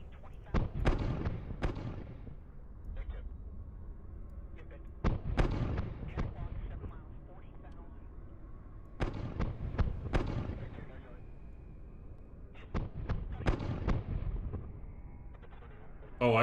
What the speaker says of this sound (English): Oh, I control the big guns, do I?